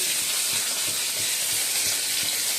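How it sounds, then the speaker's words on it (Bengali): Fish, likely prawns, frying in oil in a pan gives off a loud, constant hissing sizzle with faint low knocks underneath. "মাছটা এখন ভেজে নিচ্ছি"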